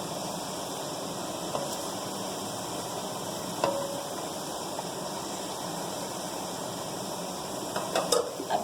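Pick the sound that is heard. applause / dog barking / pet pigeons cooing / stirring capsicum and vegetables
stirring capsicum and vegetables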